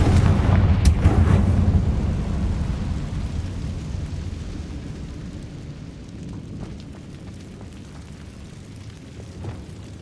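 A Confringo explosive spell blast in Hogwarts Legacy, one loud booming detonation near the start that rolls into a long fading rumble with faint scattered crackles afterward, with no voices.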